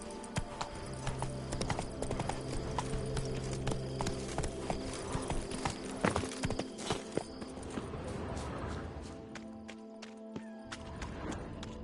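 Galloping horse hooves in The Witcher 3 video game, a continuous loud clip-clop rhythm layered over sustained game music and ambience, easing briefly toward the end.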